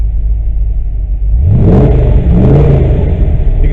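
A Corvette engine under increasing load, idling with a low rumble before climbing sharply into a loud, rising rev with rising tones, held at high throttle.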